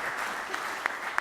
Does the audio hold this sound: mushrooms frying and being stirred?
no